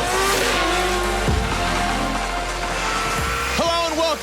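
Drift cars at Hampton Downs Raceway during Mad Mike's Summer Bash, loud and close, with long wailing tire squeals over a constant engine roar and sharp shifts in pitch as the cars slide and rev.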